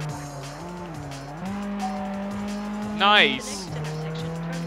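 Upgraded Aston Martin racing in Test Drive Unlimited on PS2, a steady engine note rising and falling through gear changes, with a short squeal of tires midway and someone speaking over it.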